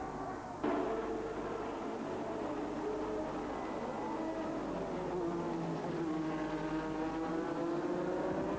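Formula 1 cars of the 1986 Grand Prix roar steadily after the start, a dense, continuous engine drone with rising and falling harmonic whines as cars pass, loud and unbroken throughout.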